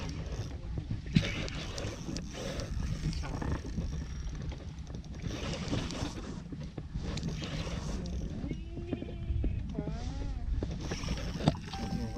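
Aboard a fishing boat at sea, a steady rumble of engine and water with wind buffeting the microphone, continuous and close, with brief mechanical knocks.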